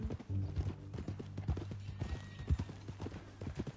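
Horse hooves clip-clop at a steady walking rhythm in Red Dead Redemption 2, moderately close, with tack rattling and a low ambient rumble underneath.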